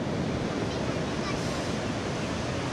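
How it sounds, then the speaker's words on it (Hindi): Rushing water of the Kali river at a riverside resort where rafting is done, a steady loud broadband wash with no breaks, gusty and windy, filling the whole stretch with no voices. "ये जो आप पानी देख रहे हो ना, बहता हुआ पानी, ये काली रिवर का पानी है"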